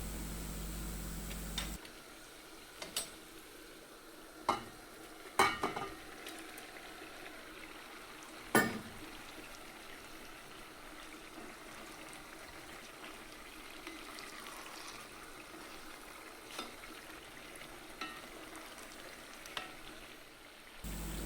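Onion and meat for pilaf fry quietly in a pan, a soft steady sizzle broken by a few sharp clicks and scrapes from stirring, with no voices.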